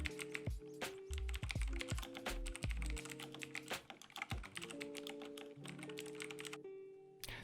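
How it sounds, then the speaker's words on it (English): Rapid clicky keystrokes on a Razer BlackWidow Chroma V2 mechanical keyboard, a dense, continuous patter of sharp taps over a soft background of tonal music. "Here's a sound test of the keyboard."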